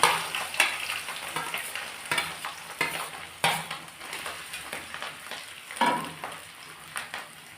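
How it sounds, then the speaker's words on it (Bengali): Mashed potatoes fry in hot oil with a steady sizzle, broken by a rhythmic scrape-and-stir every second or so as the mash is worked in the pan. "তেল গরম হয়ে গেছে, আমি এখানে যে আলুগুলো ম্যাশ করে রেখেছি এগুলো দিয়ে দিচ্ছি"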